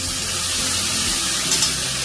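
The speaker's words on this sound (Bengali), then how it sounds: "মশলাটা কষার জন্য সামান্য একটু জল অ্যাড করলাম।" A splash of water goes into a spice mixture of coriander powder and salt frying in a pan for a Bengali boro and tengra fish curry, giving a steady, close, even hiss that lasts throughout.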